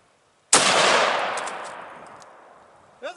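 One huge, close .50 BMG rifle shot fired into a stack of computers cracks out and rolls into a long decaying echo, with no talking over it.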